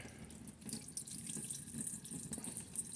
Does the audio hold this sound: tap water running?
yes